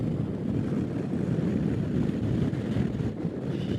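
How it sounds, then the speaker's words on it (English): Strong wind in gusts around 50 mph buffets the microphone of a riding motorcycle in a continuous roaring rumble, with steady heavy gusts blasting throughout and no voices. "The wind feels bad."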